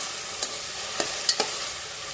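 Tomatoes for chicken pulao sauté over a low flame, giving a steady close sizzle broken by a few quick scraping stirs of the spoon in the pan.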